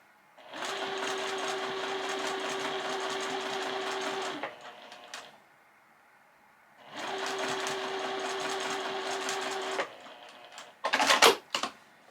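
A sewing machine pieces quilt seams at a quarter-inch allowance, with two close, steady bursts of fast, even stitching separated by a pause, followed by a short rustle of fabric being handled.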